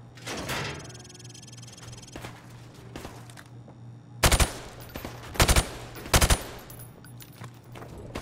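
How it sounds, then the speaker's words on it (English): Call of Duty gunfire at a shooting range, aimed through plywood at targets: three sharp bursts of rapid shots spaced about a second apart stand out loudly over a quiet background hum. "I want you to shoot the targets through the wood"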